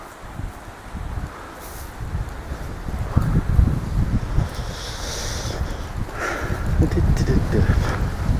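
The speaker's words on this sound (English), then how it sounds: "it's a bit blustery" Gusty wind buffets the microphone on a Cornwall coastal path, a steady loud rumble with stronger gusts swelling midway and never letting up.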